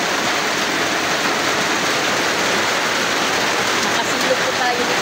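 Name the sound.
heavy rain falling at a spring cottage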